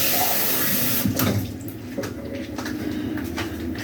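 Ice-cold water poured from a container into a pastry mix, a steady close splashing trickle that starts loud and continues more softly.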